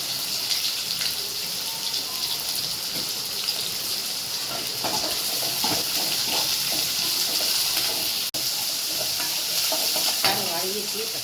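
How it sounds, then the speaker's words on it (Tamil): Onions and tomato with a little salt sauté in a pan for rava upma. A continuous close sizzle runs throughout, broken by scraping stirs and a few sharper spatters, with no talking. "வெங்காயம் வதங்கிட்டு தக்காளி, உப்பு கொஞ்சம் போட்டுக்கலாம்."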